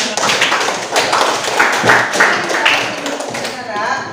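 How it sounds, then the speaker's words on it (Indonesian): A classroom of students claps hands together, loud close bursts of mixed clapping and tapping with voices talking over it and a brief uneven rhythm. "Ya, kali tepuk tangan dulu."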